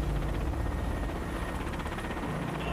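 A Mi-171 helicopter flies close by, its steady, dense rotor thumping and engine roar holding constant at a moderate level, with no voices.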